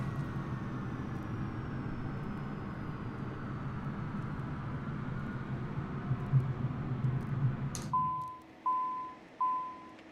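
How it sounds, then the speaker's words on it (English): Simulated Cessna Citation CJ4 jet engines winding down from outside the aircraft in Microsoft Flight Simulator 2020: a steady turbine roar with a falling whine fades over about eight seconds, then the cabin goes quiet apart from three short, evenly spaced beeps. "We'll do a engine shutdown externally so you can hear these engines shutting down."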